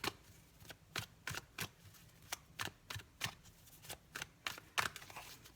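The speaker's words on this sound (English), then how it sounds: "A couple more shuffles." Tarot deck shuffled by hand in a quiet room, a run of roughly fifteen crisp riffling bursts at an uneven, steady pace, close and fairly soft, with no talking.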